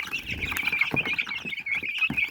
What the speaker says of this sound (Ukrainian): Ось такі гарні активні курочки.